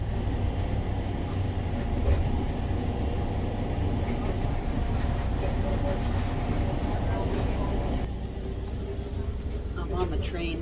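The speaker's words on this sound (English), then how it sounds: "I'm on the train heading back to Vermont" Inside a moving passenger train bound for Vermont, a steady low rumble and broadband rush of travel noise fills the space, holding constant with a slight change in tone near the end; no voices.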